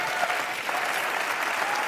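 Dense, steady clapping from a large audience at a spoken-word poetry talk, continuous and loud throughout with no voices over it.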